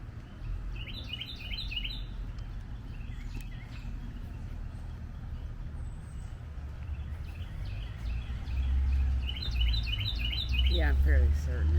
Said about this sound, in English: Birds are chirping today.